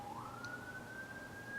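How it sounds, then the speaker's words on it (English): An emergency vehicle siren sounds faintly in the distance outdoors, a single rising wail that climbs and then holds steady over low background noise. "I'm hearing sirens, that's not good."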